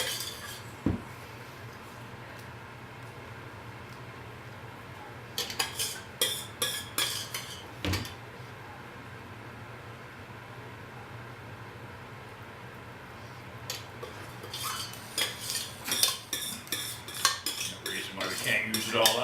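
A spoon clinks and scrapes against a dish while enchilada sauce is ladled over the top of enchiladas, in short clattering bursts separated by quieter stretches with no talking.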